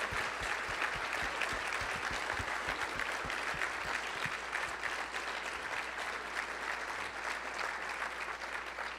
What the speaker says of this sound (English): I think we should have one last round of applause for all of our Circle honorees tonight